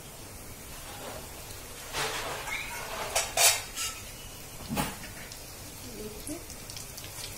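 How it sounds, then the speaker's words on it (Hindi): Three or four besan muthiya fry at a time in oil over a low flame, making a soft, even hiss broken by a few sharp utensil clinks, with a brief spoken word. "हम ये मुठड़ियाँ तीन चार करके डालेंगे और धीमी आंच पे इनको तल लेंगे।"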